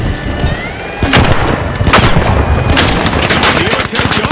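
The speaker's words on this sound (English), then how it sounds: "Outgoing gas grenade." A gas grenade goes off in a video game, mixed with loud, dense booms and gunfire that hit in several bursts over a constant roar of battle noise.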